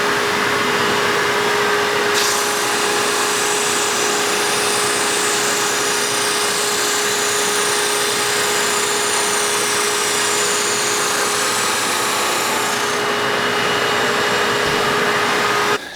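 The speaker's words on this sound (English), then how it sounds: "I'm going to now just throw it through my drum sander to get it nice and cleaned" Drum sander smoothing a plywood piece runs as a steady, loud machine roar with a constant whine, and a higher, hissing abrasive layer sets in about two seconds in and holds for roughly eleven seconds while the board feeds through.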